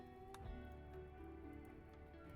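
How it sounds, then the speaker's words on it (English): Steady rain pattering in a sci-fi colony-building video game, a continuous soft hiss of drops with scattered louder taps, heard alone without talk. "it is raining though, so we should be fine"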